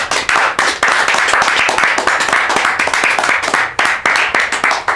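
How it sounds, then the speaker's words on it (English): A crowd claps loudly and steadily, dense applause close by with a few brief dips. "I need a round of applause,"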